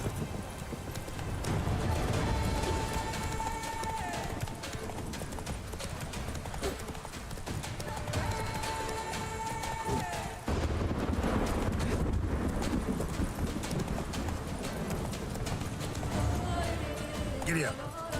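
A horse galloping in The Witcher 3 video game, with rapid rhythmic hoofbeat clip-clops running throughout, a short whinny, and a voice talking over the game sounds.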